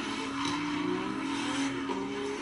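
Drift cars set off together, their engines giving a steady, loud, droning rev that rises slightly, with no voices over it.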